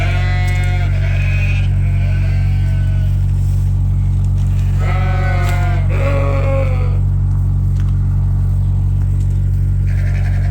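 Suffolk sheep bleat in a barn, several loud, wavering calls in short bursts over a constant low hum of barn machinery.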